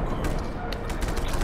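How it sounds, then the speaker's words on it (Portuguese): Explosions in the open-world game Just Cause 3 boom loudly and continuously, a dense rumbling blast with crackling bursts, close and overwhelming. "essa explosão aqui tá muito alta"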